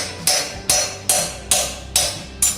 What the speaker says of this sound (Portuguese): Vou usar aqui o martelinho.